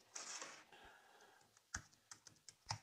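Quiet, close keystrokes on a computer keyboard, a short burst of soft clicks followed by a few more spaced taps.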